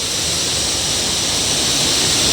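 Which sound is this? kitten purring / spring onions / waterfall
waterfall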